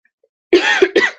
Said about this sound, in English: I'm so sorry for all the coughing and hacking